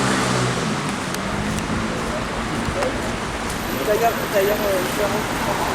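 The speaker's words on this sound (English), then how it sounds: "It's beginning to rain a bit again." Steady outdoor wash of light rain in France with passing traffic hiss, continuous and fairly even, a voice faintly present in the background.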